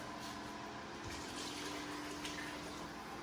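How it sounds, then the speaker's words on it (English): Water runs steadily into a soup pot in a soft continuous stream, quiet and close, with no talking. "So we add that 4 cups of water."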